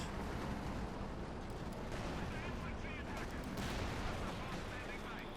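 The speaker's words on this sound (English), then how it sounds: "Panther 4 taking hits from the anti-tank rifles, forcing a bit back" Anti-tank rifles fire at a Panther tank in Company of Heroes 2, with dense, continuous battle noise of gunfire and explosions, loud and layered without pause.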